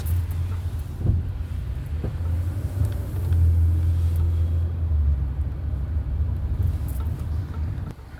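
A car's low engine rumble and road noise hold steady from inside the cabin while driving to a Sam's gas station, with a few faint knocks and light wind buffeting, and no talking.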